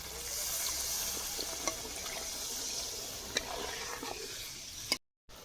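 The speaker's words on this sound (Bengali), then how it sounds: "বাটি যে মশলা করেছিলাম সেই জলটা দিয়ে দিয়ে দিয়ে দিচ্ছি" Spiced water from ground masala pouring into a pan of frying masala for a rui fish curry, a steady watery hiss and splash running almost throughout with a few small clicks, then cutting off abruptly near the end.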